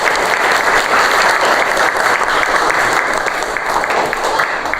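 Steady applause from a classroom of students after group presentations in a biology lesson, loud and continuous throughout with no talk over it.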